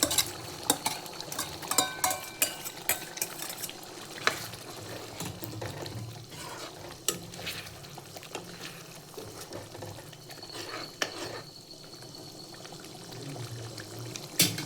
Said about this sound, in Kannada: ಸ್ಪೂನ್ ಚಿಲ್ಲಿ ಪೌಡರ್ ಹಾಕಿ ಮಿಕ್ಸ್ ಮಾಡಿ ಫ್ರೈ ಇಟ್ಕೊಂಡಿರೋ ಪನ್ನೀರನ್ನು ಹಾಕಿ ಮಿಕ್ಸ್ ಮಾಡಿ